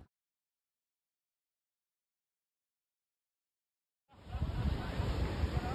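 Ocean surf on a Maui beach rushes in after a long silence, a steady broad hiss and wash of waves over the last couple of seconds, moderately loud with some wind.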